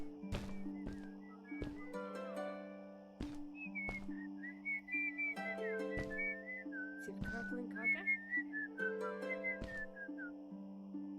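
A person whistles a wandering melodic tune over steady synth tones and sharp percussive hits in a game soundtrack, the whistle clear and continuous for several seconds.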